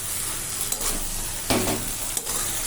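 A close, steady sizzle rises from spinach stems being stirred with fried fish oil in a pan, broken by a few scraping stirs and louder bursts of frying.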